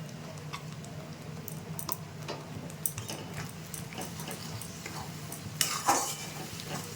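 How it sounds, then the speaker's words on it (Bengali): Spices being stir-fried in a pan with cumin powder, red chili powder and turmeric for a spicy egg curry: a soft continuous sizzle with repeated light clinks and scrapes of a utensil, and a louder scrape near the end. "এটা দিয়ে একটু মশলাটাকে কষিয়ে নেব"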